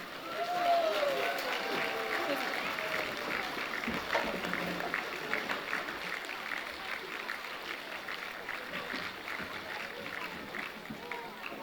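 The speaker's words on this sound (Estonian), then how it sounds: "teeme ühe suure aplausi ka Nõmme muusikakooli sümfooniaorkestrile" An audience applauds for a music school symphony orchestra at an outdoor song and dance festival concert, a broad steady wash of clapping that holds throughout.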